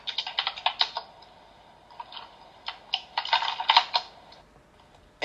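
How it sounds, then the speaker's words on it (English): Fast clattering keystrokes on a computer keyboard in bursts with brief pauses, fairly faint as if in the background of a room, no speech. "You hear the tickety-tackety tacking of his fucking keyboard in the background?"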